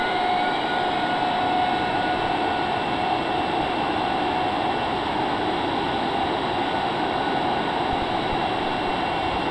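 A single jet engine of the Darkstar aircraft in a flight simulator video game, a loud, constant, even roar with a steady whine running throughout and no voices.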